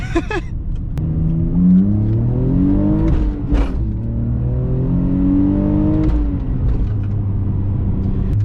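A loud, raspy exhaust from a BMW E46 with the muffler removed climbs in pitch through gears, revving up, easing off briefly, then accelerating again in fourth gear with a rough, unmuffled growl.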